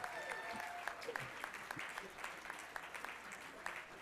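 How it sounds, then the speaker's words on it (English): Scattered applause rises from the audience at a charity auction for an ALS fundraiser, quiet and somewhat distant claps under a murmur of talk in a large room. "Give a round of applause."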